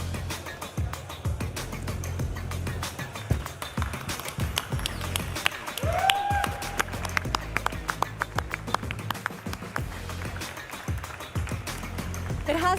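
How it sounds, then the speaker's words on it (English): An audience at an ESL racing esports event claps for the teams coming on stage, a sustained patter of many hands, moderately loud and continuous, with a short rising tone in the middle. "Please, a round of applause once again."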